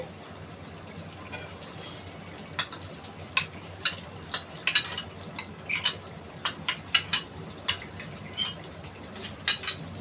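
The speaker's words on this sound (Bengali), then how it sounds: "আমি এখন সেই টমেটো কেচাপে দিয়ে দিচ্ছি" Ketchup goes into a pot of mutton rezala, with scattered utensil clinks and scraping against the pot over a low, steady kitchen background; the sounds are faint to moderate and fairly close.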